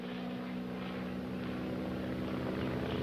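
A noisy airplane drones overhead in a continuous steady propeller hum, moderately faint and unbroken, in a 1941 film scene.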